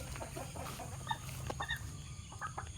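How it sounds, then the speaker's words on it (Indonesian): Chickens cluck softly and intermittently beside a chicken coop, with scattered calls over a steady low background hum. "Ada ayam di sini."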